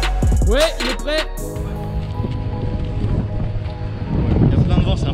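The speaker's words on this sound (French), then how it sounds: "Il y a plein de vent" Strong wind buffets the microphone with a heavy, steady roar on a rooftop; a brief tonal whine opens the clip before the gusting takes over.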